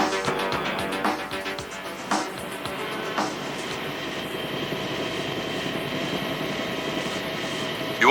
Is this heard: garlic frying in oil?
no